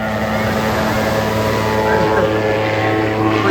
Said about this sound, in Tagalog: may eroplano